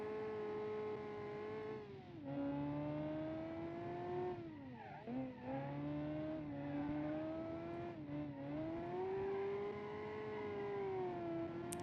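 Flat-plane V8 sports car engine revving hard and steadily, its pitch rising and dipping through several gear changes and throttle lifts, loud and close for the whole stretch with no voices.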